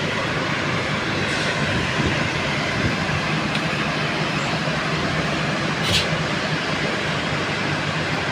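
A train stands at Sayedabad railway station, giving off a continuous broad rumble and hiss, with a faint higher whine breaking through briefly.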